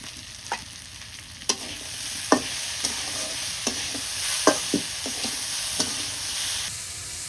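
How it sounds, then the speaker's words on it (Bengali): Pulses are stirred in oil left over from frying pointed gourd, giving a soft steady sizzle under a dozen or so sharp scraping clicks of a utensil against the pan. "এই যে পটল ভাজার তেলের মধ্যে কালাই দিয়ে কষান করে নিতেছি"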